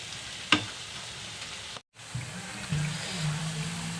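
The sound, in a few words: onion pakodi deep-frying in oil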